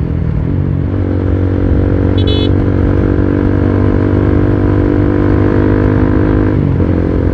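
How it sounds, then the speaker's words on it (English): A Suzuki Gixxer SF250 motorcycle cruising on a road, its engine droning loud and steady throughout with constant wind rush and a brief metallic rattle partway through. "Sarap talaga ang hangin ng motor"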